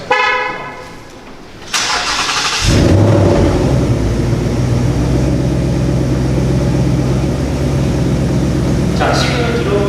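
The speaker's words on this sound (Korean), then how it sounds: "그래서 차를 타기 전에 원격 시동으로 차량을 시동을 한번 걸어보도록 하겠습니다." A 2018 Ford Mustang with the new 5.0 V8 is remote-started: a short chirp, then a loud cranking roar that settles into a steady, deep, rumbling idle nearby, with faint chirps at the end and no talking.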